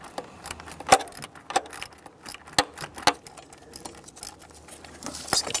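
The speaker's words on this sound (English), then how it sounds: "I'm going to be tightening this with my 1/4 inch ratchet because that's the type of clamp I'm using." A 1/4 inch ratchet tightening a hose clamp on a Chevrolet Silverado 1500 4.3 intake manifold, giving a series of light metallic clicks and small ticks at an irregular pace, close and fairly quiet.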